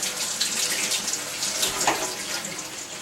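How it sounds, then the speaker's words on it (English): Running tap water pours steadily over sliced mushrooms in a kitchen strainer, a continuous close splashing hiss that carries on throughout with no talk. "we're just going to give these a quick rinse in the strainer"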